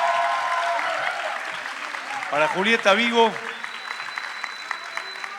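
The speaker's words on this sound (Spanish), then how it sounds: "Les pido un aplauso" An audience at a theatre talk applauds Julieta Vigo with a burst of steady clapping, while a voice speaks loudly over the applause partway through.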